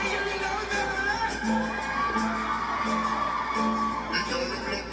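A dense concert crowd screams and cheers continuously at a dancehall show, loud and sustained, while music with a steady beat plays underneath.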